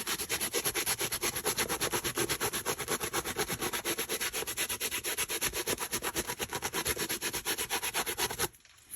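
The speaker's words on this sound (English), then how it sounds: "you can use a nail file to rough up a patch" A nail file scrubs steadily across jean shorts to distress the denim, making fast, even back-and-forth rasping strokes close up that run for about eight seconds before stopping abruptly.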